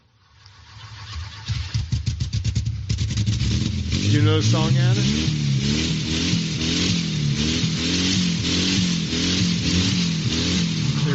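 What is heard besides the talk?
engine revving at start of a song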